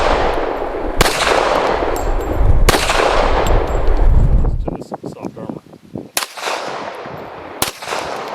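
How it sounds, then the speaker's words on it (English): Three .45 pistol rounds fired into soft IIIA body armor, each a sharp, loud crack standing out above ongoing talk and handling noise, spaced unevenly across the stretch. "So we're gonna see what 3 rounds of 45 does to this soft armor."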